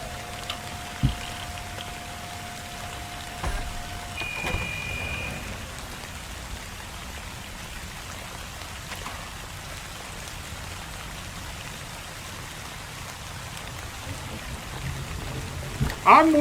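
Rain in the video game My Work is Not Yet Done, now a softer, muffled patter heard as from indoors, with a few faint clicks and tones and a louder knock near the end.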